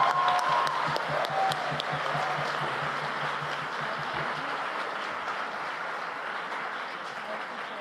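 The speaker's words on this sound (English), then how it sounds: "Let's give another warm round of applause for the two finalist teams." An audience at the WSDC 2025 debate grand final applauds the two finalist teams. The clapping is dense and crisp at first, then softens into a broad, fading wash.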